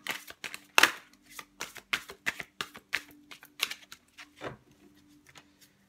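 Tarot cards are shuffled and laid out, giving a string of close, sharp card snaps and flicks in an irregular rhythm that thins out toward the end.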